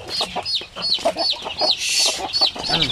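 Native hens of the Zampen and Basilan breeds cluck repeatedly in a busy, close chorus, with chirpy higher calls mixed in and no voices.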